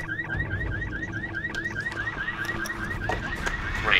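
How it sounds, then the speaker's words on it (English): Alarm in the video game Dead Island Riptide, a rapid repeating electronic warble blaring steadily and fairly loud over low background game noise, with no talking. "Where's the damned alarm switch?"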